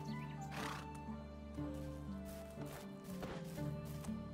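Foal horses on a farm in the medieval life game Medieval Dynasty, snorting and whinnying in several breathy bursts over a steady hum of game music, close and moderately loud, no one talking.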